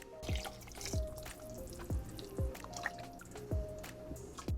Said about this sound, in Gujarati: તો આમાં હવે આપણે ગરમ પાણી એડ કરીશું.